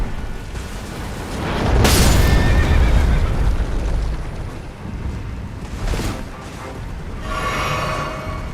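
A horse in the video game Elden Ring, played with the Convergence mod, gives loud neighs and whinnies in several bursts over a rumbling game background.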